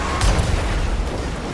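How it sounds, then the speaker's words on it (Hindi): An explosion behind a car on a highway in the GTA 5 video game, a loud low boom followed by a dense rumbling roar that stays heavy and sustained. "पीछे कुछ तो ब्लास्ट हुआ"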